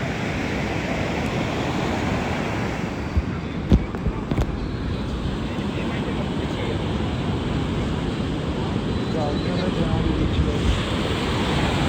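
Sea waves roll and wash continuously onto a Goa beach, a steady broadband surf roar mixed with wind buffeting the microphone and a few faint background voices.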